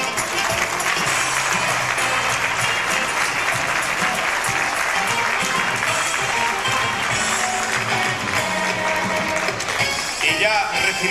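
A hall audience at San Javier's 1995 patronal festival loudly applauds arriving guests and the festival queen, a sustained, thick roar of clapping lasting over ten seconds, with a voice talking over it.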